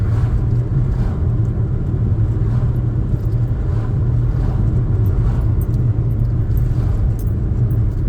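A car cruising in fifth gear at about 45 to 50 mph on an open road, heard from inside as a steady, unbroken drone of engine and tyre rumble with faint rattles, and no voices.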